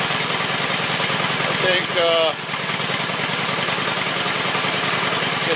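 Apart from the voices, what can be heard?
engine idling after idle adjustment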